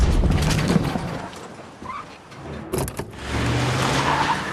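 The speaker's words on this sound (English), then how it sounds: "He backs his car over Fitz, killing him on the spot." A car reverses and skids over a person in a dramatized crime story; a loud, gritty burst of engine and tire noise, with a sharp screech near the middle, then a sustained rumble.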